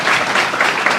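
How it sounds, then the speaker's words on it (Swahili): Crowd applause at a school event at Kapsabet High School in Nandi County, a dense, steady burst of many hands clapping together, fairly loud and close, with no speech over it. "tumpigie makofi"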